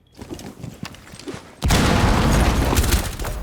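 Gunfire sprays through a wall in the tactical shooter Rainbow Six Siege, starting as scattered muffled pops and then swelling into a loud, sustained burst of rapid shots that fills the second half.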